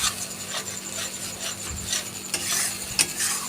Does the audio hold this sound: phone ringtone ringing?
no